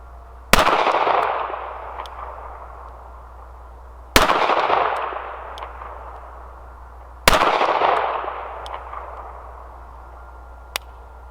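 Three sharp, loud shots from a Smith & Wesson 642 revolver firing .38 Special +P rounds, spaced about three seconds apart, each followed by a ringing decay.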